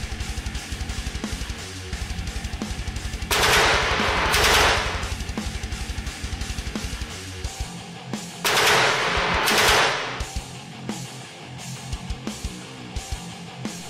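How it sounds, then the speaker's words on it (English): Heavy machine gun fire from a tabletop car-combat battle in an arena, two long sustained bursts of loud rapid gunfire set over a steady rhythmic mechanical backdrop. "he decides to shoot Party Vegan with his HMG but unfortunately all attacks misses"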